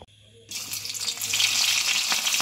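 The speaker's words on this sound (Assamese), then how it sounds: "এইফালে তেল দিয়া আৰম্ভ কৰি দিছোঁ দেই কেৰাহীত।" Oil sizzling loudly in a wok: a bright, steady crackling hiss starts abruptly after a brief quiet moment and keeps building, close by.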